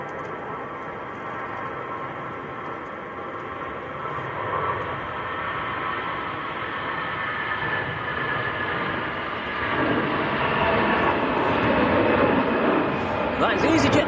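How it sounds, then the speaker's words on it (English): An EasyJet Switzerland airliner departing Manchester Airport for Geneva gives a broad, steadily building jet roar over about fourteen seconds, swelling louder toward the end amid windy outdoor conditions. "That is EasyJet Switzerland going out to Geneva"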